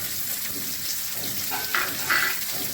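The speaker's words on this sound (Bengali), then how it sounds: "এবার পেঁয়াজ দিচ্ছি" Onions dropped into hot oil alongside potatoes in a home kitchen, giving a soft, steady frying sizzle with a couple of brief louder hisses, close and without talking.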